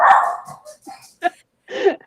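A pet dog, a pit bull lover's household pup, barks nearby in a few sharp yips and short whimpering woofs spaced unevenly, loud and close in an otherwise quiet room.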